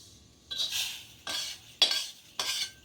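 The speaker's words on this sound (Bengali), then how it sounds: "আমি নামিয়ে নিচ্ছি চালটা।" Fried rice for sandesh is scooped out of a pan in four distinct metal scrapes and clinks of a spoon against the cookware, evenly spaced, close and alone.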